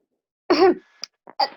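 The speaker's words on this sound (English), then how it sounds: "When he enters, he coughs loudly," A loud, close cough, a single harsh throat-clearing burst followed by a couple of smaller cough-like catches, in a quiet room.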